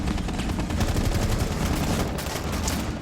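Sustained rapid gunfire in a Rainbow Six Siege esports match rattles in steady repeated shots for the whole stretch, loud and continuous with little pause.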